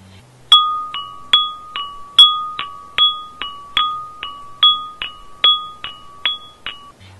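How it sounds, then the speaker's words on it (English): Homemade flower pot chimes ring out in a steady alternation of a higher and a lower pitch, about sixteen clear, bell-like strikes, each decaying into the next, close and alone. "And if I play it on the flower pot chimes,"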